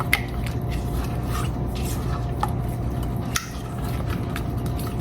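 Eggs being mixed into flourless brownie batter in a bowl, a steady close scraping and stirring with a few light clinks of utensil against the bowl, no talking.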